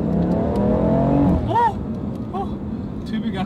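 A car accelerates hard from close inside the cabin, the engine note climbing steadily before easing off, with people talking over it.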